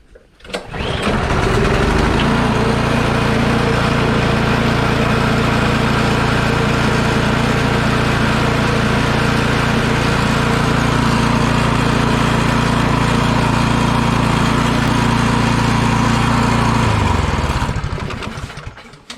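A Craftsman snow blower engine, choked and pull-cord started, catches quickly and runs at a loud, steady, close drone for about fifteen seconds before shutting down.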